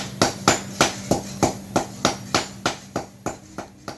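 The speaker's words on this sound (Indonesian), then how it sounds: "Suara pukulan palu menghantam besi masih menggaung dari bengkel sederhana" A blacksmith's hammer strikes iron in a simple village forge in Banggai, Indonesia, ringing out in an even rhythm of about a dozen sharp metallic blows close by, with a faint steady hum beneath.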